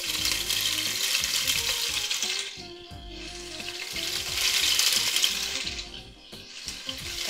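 Meat fries in hot oil in a home kitchen with a steady, loud sizzle that swells and dips as it is stirred, plus occasional light scraping and clinks.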